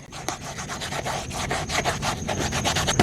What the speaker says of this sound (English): I'm going to hit it with a Scotch-Brite just to give it a little scuffy